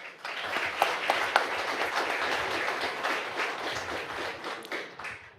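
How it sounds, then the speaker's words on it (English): A room at a school district board meeting breaks into applause for students, many hands clapping in an even, moderately quiet patter that swells and then tapers off. "A big applause for them,"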